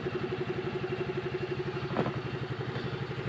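A Yamaha Gravis scooter engine idles steadily with a rhythmic, slightly clattery putter, close and continuous, with a brief louder bump partway through.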